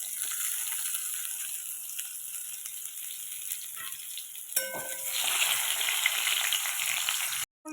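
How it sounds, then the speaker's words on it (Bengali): Sliced pointed gourd (potol) frying in hot oil in a pan, a steady close sizzle with a sharp clink midway, the frying getting brighter and louder afterward before cutting off abruptly at the end. "পটলটা ভালো ভাজা হয়ে গেছে"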